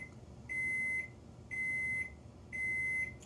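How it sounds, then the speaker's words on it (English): A kitchen oven signals it has finished preheating with three evenly spaced, sustained electronic beeps, each about half a second long, clear and alone against a quiet room hum. "Oven's ready."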